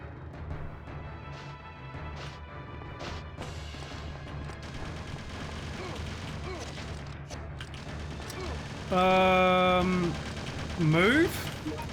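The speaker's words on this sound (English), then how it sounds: "You can still hear the gunfire." Gunfire in the video game Resident Evil Survivor: scattered sharp shots and clattering bursts spread across the clip, half-buried under other game sounds and a steady low drone, with a louder tonal passage near the end.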